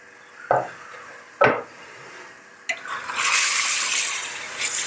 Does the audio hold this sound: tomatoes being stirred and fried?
yes